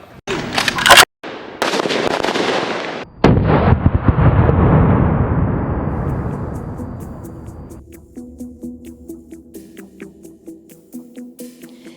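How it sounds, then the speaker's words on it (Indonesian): Heavy gunfire echoes nearby at Indonesia's Police Academy: a few sharp single shots, then a long sustained burst of automatic fire, trailing into a quieter series of rapid pops. "Yang bisa ditembakkan satu-satu, tembakan sekali tembak 1 butir, bisa tembakan otomatis"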